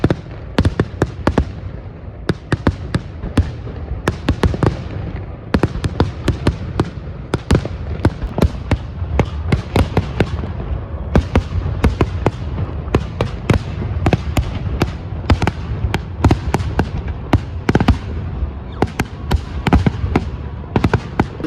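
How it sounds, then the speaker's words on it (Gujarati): Firecrackers burst in dense, rapid succession at night near a coastal fishing area in Porbandar, sharp loud cracks overlapping continuously with no pause, some close and others farther off. "અહીંયા ફટાકડા ફૂટે ને"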